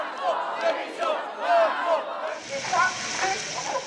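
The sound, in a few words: protesting crowd of striking French workers with megaphones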